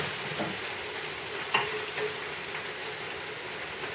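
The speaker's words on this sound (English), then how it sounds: "I'm going to flip my eggs over nicely" Eggs frying in a pan, a soft continuous sizzle and crackle with a brief scrape and clatter as they are flipped midway, fairly quiet throughout.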